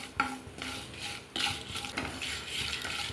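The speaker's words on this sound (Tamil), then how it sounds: "சேர்த்துட்டு ஒரு வாட்டி கலந்துட்டு ஸ்டவ் ஆஃப் பண்ணிடலாம்." Roasted chillies, cumin and tamarind stirred in a pan on the stove, a spoon scraping and clinking against the metal in a few uneven strokes over a faint sizzle, close and alone with no talk.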